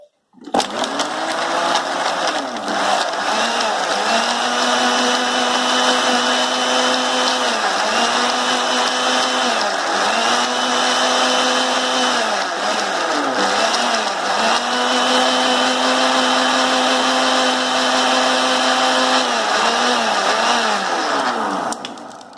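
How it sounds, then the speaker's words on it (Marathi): A mixer grinder whirs loudly and continuously, blending a rose milkshake with ice cubes, its motor pitch dipping slightly at regular intervals as the contents churn, with no talk over it. "मिक्सरला फिरून घेऊया"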